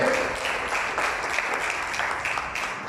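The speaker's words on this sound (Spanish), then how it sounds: "¿Cuánto le aplaudo al Señor?" A church congregation applauds together, a steady dense wash of clapping that holds at moderate loudness throughout with no voices standing out.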